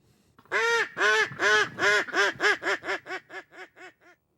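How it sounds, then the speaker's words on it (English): A hand-blown duck call sounds a descending series of about a dozen loud, nasal quacks, starting long and spaced and speeding up into shorter, softer notes, alone with no talk. "knows how to blow and tune a duck call"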